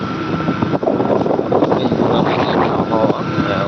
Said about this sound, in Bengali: শীতল বাতাস